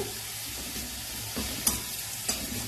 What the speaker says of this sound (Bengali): আদা রসুনের পেস্টখানা দিয়ে দিলাম। তারপরে এটাও একটুখানি কষিয়ে নিয়ে